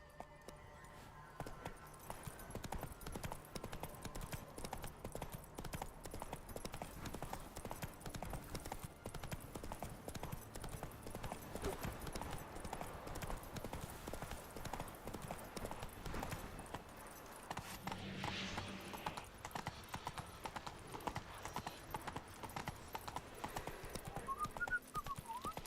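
The horse Roach gallops in The Witcher 3, a continuous rapid clip-clop of hooves running the whole length, with faint whistling and background game sounds layered in.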